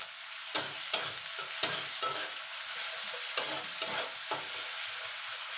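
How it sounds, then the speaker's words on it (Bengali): Onions fry with a pinch of salt in hot oil, a constant hiss punctuated by repeated spatula scrapes and stirring knocks at irregular intervals, near and moderately loud, no speech. "সামান্য একটুখানি নুন দিয়ে দেবো যাতে পেঁয়াজটা তাড়াতাড়ি ভাজা হয়ে যায়"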